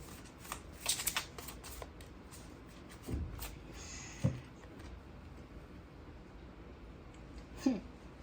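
Tarot cards are shuffled in a quiet room, quick riffling bursts followed by sparse soft taps and flicks as single cards are handled, faint and close.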